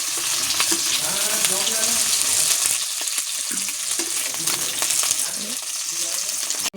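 Kuche fish fry in hot oil with a dense, continuous sizzle that stays loud and close for the whole stretch, with faint background sounds beneath.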